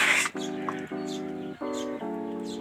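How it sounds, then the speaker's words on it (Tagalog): A Burmese chicken kept in a backyard pen calls close by in a series of four sustained, nasal, harmonic clucks with short gaps between them, heard alone over a quiet background. "Burma na manok."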